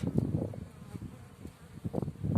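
Honeybees on their spring flights in mid-May, buzzing close to the microphone in uneven swells as individual bees pass near and drift away.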